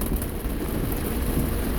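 Steady rain with rumbling thunder heard from inside a car while driving, a dense continuous wash of drops and low rolling rumble, fairly loud with no voices.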